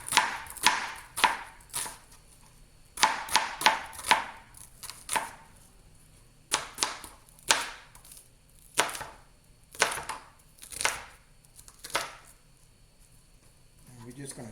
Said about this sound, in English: We're just going to chop up our onions now.